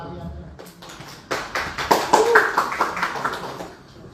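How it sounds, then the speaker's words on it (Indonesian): A crowd applauds at a music video launch event, a burst of clapping that starts about a second in and carries on under a voice, which speaks over it throughout. "Tepuk tangan dong teman-teman."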